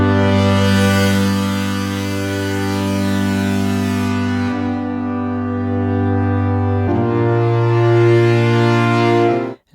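Sequential OB-6 synthesizer holding a rich sustained tone whose filter brightness swells and dips under aftertouch pressure, bright upper harmonics fading out midway then returning near the end, with no talking.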